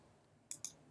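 Two quick computer mouse clicks while selecting and backing up database tables, sharp and close, just under a tenth of a second apart, in an otherwise quiet room.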